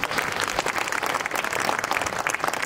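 Applause from an audience at the opening ceremony of a regional government branch office in a community center, steady dense clapping throughout, close and loud, with no talking.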